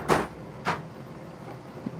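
A Cobalt toolbox drawer is pulled open and pushed shut, giving two sharp sliding clacks close by, with a fainter knock near the end.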